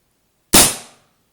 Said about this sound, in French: Vous voyez, vous avez entendu le bruit. Très grosse détonation.